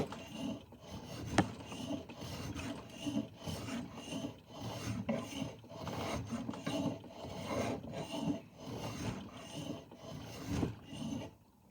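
A small hand plane is pushed repeatedly across wood in rhythmic rasping strokes, close and moderately loud, with no talking.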